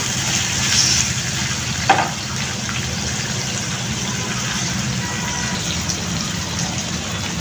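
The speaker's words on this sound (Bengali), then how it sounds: "এখন পেঁয়াজটাকে আমি ব্রাউন কালার করে আমি ভেজে নিব।" Chopped onion frying in oil until brown, a steady hiss of sizzling with one brief clunk near the start, continuous and close, no talking.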